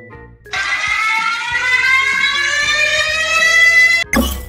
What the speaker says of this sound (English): what to do when you hear a siren and feel an earthquake.